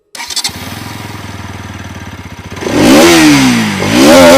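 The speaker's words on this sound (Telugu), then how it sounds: "ఫైనల్గా ఒకసారి ఎగ్జాస్ట్ నోట్ వినిపిస్తా" A 2024 Bajaj NS200 motorcycle idles with a steady, throbbing exhaust pulse, then revs hard twice in rising and falling bursts, loud and close with no talking.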